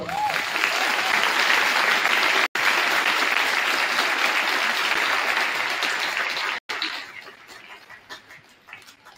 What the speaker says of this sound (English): Let's give our veterans a round of applause